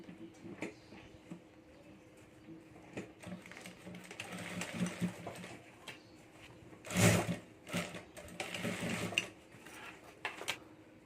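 A sewing machine runs in short, uneven bursts while stitching the border of a handmade boho hand bag, close by, with clattering handling noises and one loud thump partway through.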